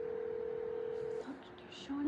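Telephone dialing tones sound over a speakerphone: a long steady tone that breaks off into a few short beeps, thin and fairly quiet, with faint voices in the background.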